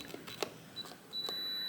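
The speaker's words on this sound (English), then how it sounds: "you're going to hear a long beep and see a green flash here" A Schlage FE595 keypad door lock gives a few soft clicks, a short chirp and then a long, steady high-pitched beep. The sound is quiet and close.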